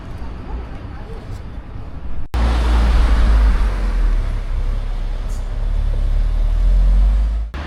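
A Mercedes A45 passes along a city street in Andorra, a loud close engine rush that rises abruptly and holds over steady traffic noise.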